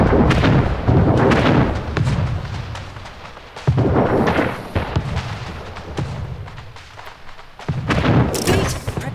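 Ships fire cannons during a naval battle in the video game Anno 1800, with heavy booming volleys that come in repeated loud bursts and rumbling decays.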